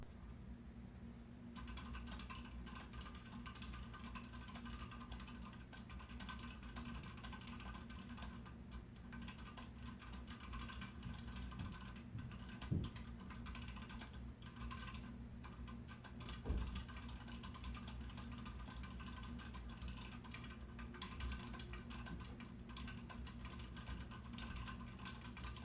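Steady typing on Hako True tactile switches in a Kickstarter Whitefox mechanical keyboard with stock keycaps and clipped, lubed stabilizers, a fairly quiet run of soft clacks with a couple of louder keystrokes and no talk.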